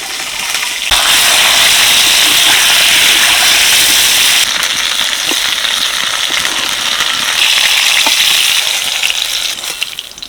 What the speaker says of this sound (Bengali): এবার ঝিঙেগুলো ভেজে নেবো হালকা করে।